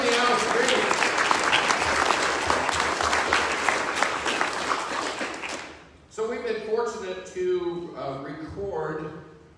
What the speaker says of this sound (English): A round of applause for Mr. Tony Alstree.